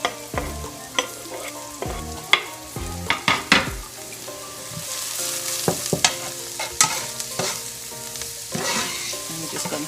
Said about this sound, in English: I'm going to add my chopped garlic and mushrooms all in at the same time